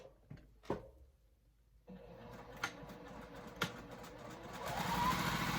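A sewing machine stitches a fabric rectangle for a pocket, its motor starting after a few sharp clicks into a continuous mid-pitched whirring hum that grows steadier and louder, with occasional knocks over it; no speech.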